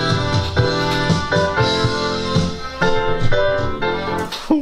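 A recorded drum fill plays back loud and full, with dense repeated hits and cymbal wash running throughout and a sharp crash near the end, no voices over it.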